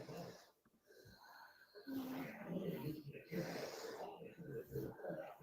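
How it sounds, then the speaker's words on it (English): Raspy, wheezy breathing from a woman, close and continuous with rough rasping textures through most of the stretch, after a quieter opening. "Listen to that breathing."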